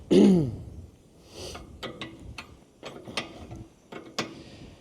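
Metal clicks and ratcheting scrapes come from a 7/8 wrench loosening a 1/2-inch air hose fitting on a swivel on a service truck air compressor. A louder grunt-like noise opens the stretch, then sparse, separate clicks follow at close range.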